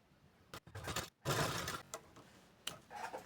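Short bursts of a sewing machine running a straight seam on a katori blouse, quiet and close, starting and stopping several times with brief silent gaps between runs.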